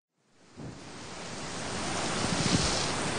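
Large ocean waves around six metres high crash in a rough sea during terrible weather near a ferry crossing, a loud, continuous roar of surf and wind that builds steadily with no one speaking.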